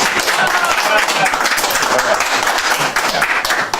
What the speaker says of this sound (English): So next I need laughter followed by applause.